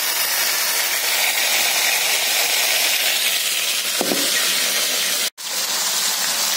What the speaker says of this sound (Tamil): கல் ரெடி ஆகிட்டுருக்கு, ப்ரீஹீட் பண்ணியாச்சு. இதில் வந்து இப்போ இந்த மஷ்ரூமை சேர்க்குறேன்.